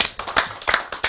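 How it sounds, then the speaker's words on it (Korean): A few people clapping for a performer about to sing at an informal gathering, scattered irregular claps close by at moderate loudness, several distinct bursts over a short stretch. "박수 한번 주십시오"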